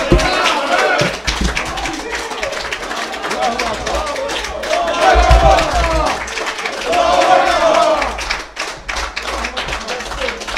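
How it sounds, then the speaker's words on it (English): Sustained applause with dense, steady clapping from an audience at a Sunday mosque lecture, lasting several seconds while someone speaks over it. "Keep that applause going for our Delaware Valley Student Regional Minister, Rodney Muhammad."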